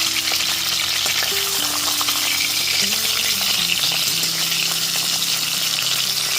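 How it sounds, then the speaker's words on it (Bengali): A fish head frying in hot oil on a high flame for moong dal, a steady loud sizzle filling the whole stretch with a continuous crackling hiss and no talk. "এক পিঠটা ভাজা হয়ে গেলে পরে অপর পিঠটা উল্টে ভেজে নিচ্ছি।"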